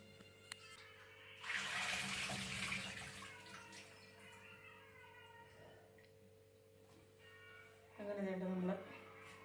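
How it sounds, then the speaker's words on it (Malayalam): Tap water runs into a kitchen sink while cut fish pieces are rubbed and rinsed by hand, a splashing, hissing stream that rises and falls in two loud bursts with quieter handling between, under a steady background hum. "മീൻ മുറിച്ചു ഇനി നമുക്ക് ഒന്നും അത് കഴുകി ചുമ്മാ ഒന്ന് ഉരച്ച് കഴുകിയെടുക്കാം"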